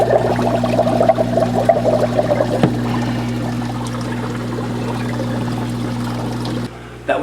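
Water percolating through an aquarium algae filter, a steady bubbling trickle with a constant low pump hum, continuous and fairly close, briefly cutting out near the end.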